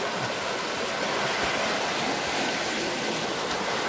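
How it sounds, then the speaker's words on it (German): Irrigation water rushing steadily into terraced rice fields, a dense broadband gush like a small stream or channel, close and continuous with no voices. "Also das Wasser geht hier dann in die Felder."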